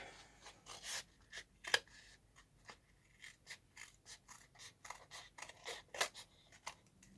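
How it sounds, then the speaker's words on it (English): Scissors repeatedly snipping and crunching through thick paper, a series of short irregular cuts, close by with brief pauses between. "I'm gonna have to use my scissors for this because this is a little bit too thick"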